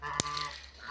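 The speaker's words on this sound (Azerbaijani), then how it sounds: "Onlardan əsasən qazlar yeyir bu almaları" A goose on a farm feeding on apples gives one short, sharp honk close by, over a low background hum.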